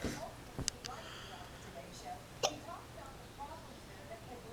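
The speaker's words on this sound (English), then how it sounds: "Are you going to say excuse me every time you hiccup?" A small child hiccups a few times, brief sharp bursts spread over several seconds against a faint, noisy room background.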